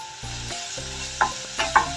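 Onions frying in a pan with ginger garlic paste just added, giving a steady hissing sizzle broken by a few sharp stirring scrapes near the end.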